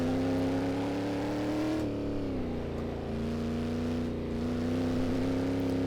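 Shelby Cobra 427 engine in Assetto Corsa, driven with a heavy-steering racing wheel: a steady, loud, deep V8 drone that dips in pitch partway through and then climbs back up, running on with no talk.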